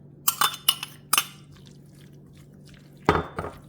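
Fresh basil is stirred into a bruschetta mixture in a glass bowl: three bright clinks close together, a quiet pause, then another pair of clinks with a soft wet squish.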